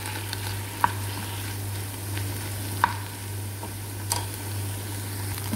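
Japanese noodles frying in a pan, a constant soft sizzle with occasional sharp clicks and scrapes of stirring, close up with a steady low hum beneath.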